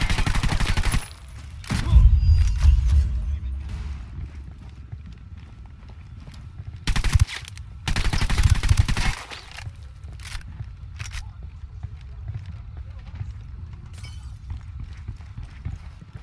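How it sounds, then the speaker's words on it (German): Gunfire in a video game shooter: loud bursts of shots around the start and again in the middle, with quieter crackling and low rumble between. "Ready to fire. I'm opening fire."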